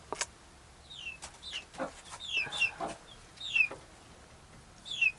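A mother hen clucks repeatedly to call her chicks up to roost in a backyard coop, with short calls coming at irregular intervals, fairly close and moderately loud, and other birds chirping faintly in the background.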